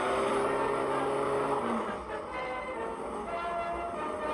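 Satsuma car driving in a video game, a steady engine drone with a tonal hum that drops in pitch partway through, continuous and fairly loud with no talking.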